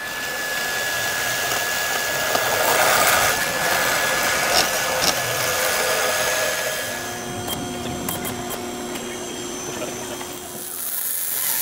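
A power tool cuts into a Trick T4 turbo manifold pipe, a harsh grinding whine close by that shifts in pitch as the cut progresses, with a voice briefly talking over it.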